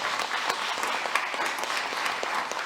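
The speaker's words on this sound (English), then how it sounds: "Let's give them a round of applause." Applause at a school board meeting for a high school's graduation rate, with a dense, continuous wash of many hands clapping at an even level throughout.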